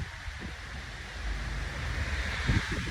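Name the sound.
strong wind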